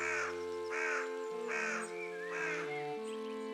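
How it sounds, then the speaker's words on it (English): A crow caws loudly and repeatedly in the video game Pentiment, about five harsh calls in a steady rhythm over a sustained, droning musical background. "Very loud bird."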